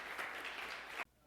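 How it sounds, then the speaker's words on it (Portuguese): A church congregation claps for Jesus during a sermon, a faint, distant wash of applause that carries steadily for about a second and then cuts off abruptly. "Dê palmas para Jesus aí"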